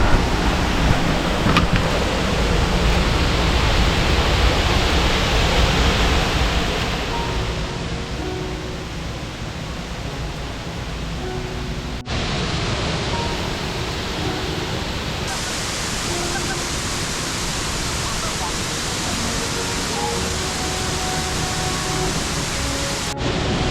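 Loud, steady rushing of a waterfall in Loei, Thailand, a dense roar of falling water close by that continues without pause.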